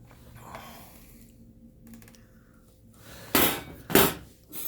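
Plastic switch housing pried off a Makita HG1100 heat gun, with a few quiet clicks and scrapes followed by two sharp, loud snaps close by near the end.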